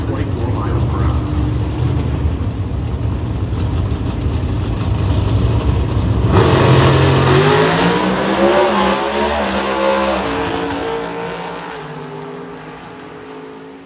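Drag racing cars roar off the line at the NHRA ZMAX Nationals, among them a Mustang, with a loud sustained engine rumble building into a rising, revving surge that fades gradually, while a commentator talks over it.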